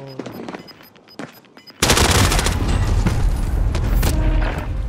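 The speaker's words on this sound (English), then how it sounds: "Somebody's shooting at me" Gunfire in Call of Duty Modern Warfare: a few scattered single shots, then a sudden loud, sustained burst of automatic fire and explosions lasting several seconds.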